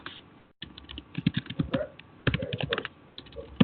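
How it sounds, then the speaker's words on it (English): Keys clatter on a computer keyboard in quick irregular bursts, close and fairly quiet, with a brief pause near the start. "I can hear the typing"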